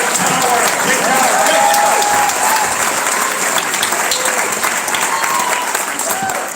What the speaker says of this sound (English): So let's get the applause back up.